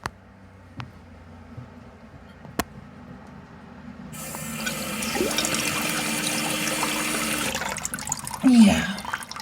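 Water rushes into a toilet tank through a new Fluidmaster 400A fill valve, starting suddenly after a quiet stretch with a few clicks and holding as a loud, steady hissing flow, with someone speaking briefly near the end.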